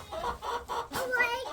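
Chickens cluck softly in a winter coop, a few short quiet clucks in quick succession, close by with faint speech in the background.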